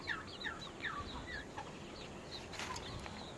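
Shamo gamefowl on a farm with turkeys and ducks nearby, giving a run of soft, repeated clucks and chirpy calls that rise and fall at moderate distance over a steady outdoor background, with no talking.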